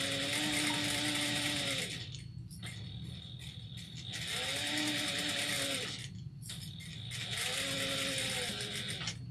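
A sewing machine runs a basting stitch an eighth of an inch from the edge, whirring steadily in three long bursts of several seconds each, with brief quiet gaps between them, heard up close.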